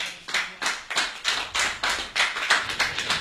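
A church congregation breaks into rhythmic applause. About ten steady, evenly spaced claps land close by with no voices over them.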